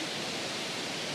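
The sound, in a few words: waterfall at Plitvice Lakes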